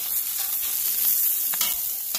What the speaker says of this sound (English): Okay, so while I roast up these jalapenos and onions, Deb's going to butter my buns.